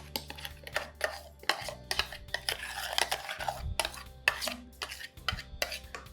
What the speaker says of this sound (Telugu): రెండు ఇందులో వేసేసి మంచిగా మిక్స్ చేయండి